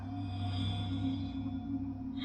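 Warning tones from the Breathedge space-survival game signal low oxygen, the newer two lower-pitched tones sustained over a steady electronic drone, with no other sounds.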